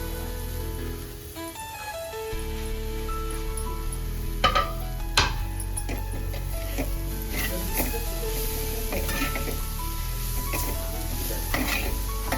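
Dried shrimp (sukat) with coriander fries in a pan, giving a steady sizzle broken by the scrape and clink of a spoon stirring against the metal.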